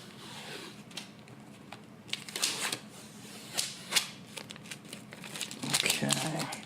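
Thin plastic protective film is peeled and crinkled off an Oculus Go VR headset up close, in short crackling bursts that grow louder toward the end, with a person talking in the background.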